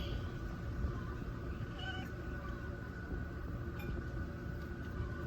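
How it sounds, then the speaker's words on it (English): A house cat meows faintly a couple of times in a quiet indoor room, soft and distant over a low background hiss. "Let's hope that the cat doesn't come over too close."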